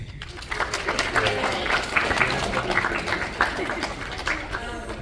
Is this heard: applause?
yes